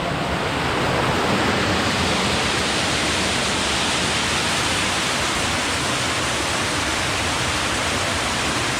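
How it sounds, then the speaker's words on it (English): Waterfall pouring down near steep cliffs into water beside a flooded tunnel, a steady, loud broadband roar of rushing water that fills the whole clip without a break. "Got a waterfall."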